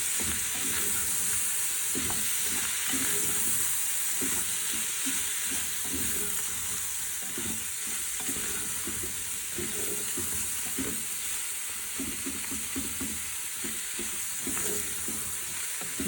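Onions, tomatoes, green chillies and half a kilo of minced meat sizzle in a pan under a constant hiss, while repeated scraping stir strokes sound close by throughout.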